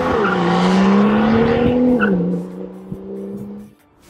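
BMW M2 driving hard, with a strong engine note and a loud squeal of the tires that runs for a few seconds, then fades as the car pulls away.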